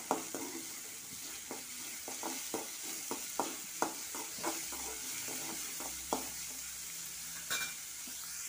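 Shallots and dried red chilli sauté in a pan, giving a steady sizzle with regular scraping stir strokes close by and no speech.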